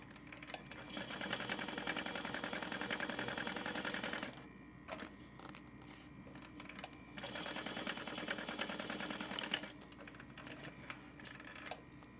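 A sewing machine stitches a tote bag seam about 1/8 inch from the edge, running in two fast, steady bursts separated by a quieter pause, close and alone.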